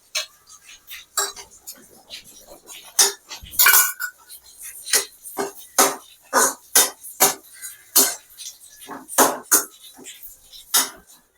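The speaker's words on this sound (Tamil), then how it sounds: "கீரை நல்லா வெந்து வந்திருக்கு இந்த நேரத்தில் நம்ம வச்சுருக்க அந்த பைத்தம் பருப்பை இதில் கொட்டிக்கலாம்" Cooked greens in a pot are mixed with moong dal, heard as a rhythmic series of close metallic scrapes and clinks from a spoon against the pot, coming about once a second with quiet gaps.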